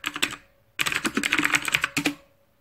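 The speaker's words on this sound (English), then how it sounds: "I gotta type for this one." Rapid clicking of fingers typing on a computer keyboard, close and fairly quiet, in two short bursts separated by a brief pause.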